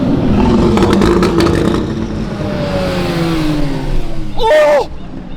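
A car engine revs at a Monterey Car Week gathering, loud and sustained with rising and falling pitch, while a crowd's voices and shouting continue throughout and a sharp whoop near the end.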